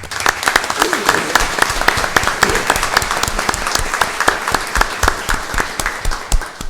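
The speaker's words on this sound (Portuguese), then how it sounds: "uma salva de palmas para os nossos campeões" Sustained applause from a crowd at a municipal council session in Tijucas do Sul, honoring chess champions; dense, steady clapping with sharp individual claps throughout, loud and close, with faint voices underneath.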